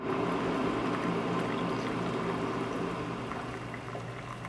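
Water being poured and prepared in a kitchen for hot lemon water, a steady continuous liquid rush close by that eases off slightly toward the end, with no voices.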